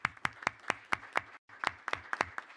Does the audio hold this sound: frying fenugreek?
no